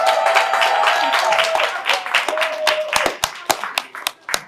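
An audience at a residents' safety meeting in Moss Park claps, starting as a dense round of applause that thins out into a few separate, sharp hand claps by the end.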